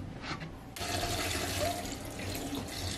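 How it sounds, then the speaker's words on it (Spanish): Soaking water from rehydrated dried potatoes for carapulcra being poured out, a steady close splashing pour that starts abruptly and runs on alone. "Vamos a botar esta agua y vamos a cambiar por una limpia"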